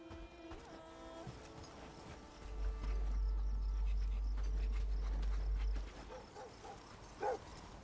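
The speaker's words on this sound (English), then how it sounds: "That is a dog." A dog barks a few short times in the medieval survival game Bellwright, fairly faint against low ambient rumble and scattered soft game noises.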